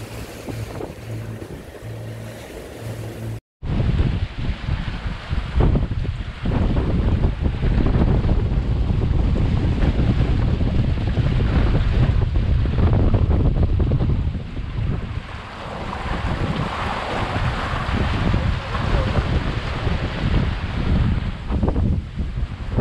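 A sailboat under way with its mainsail up in northerly wind leaving Muxía, with steady wind buffeting and rushing water against the hull, continuous and loud after a brief quieter opening.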